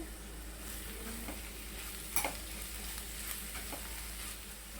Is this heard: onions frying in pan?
yes